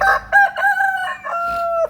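A home-bred rooster crows once, close and loud, with a long drawn-out call.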